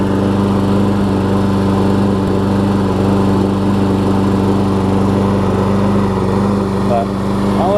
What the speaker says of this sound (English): But I'll let it sit here for a little bit, let it run.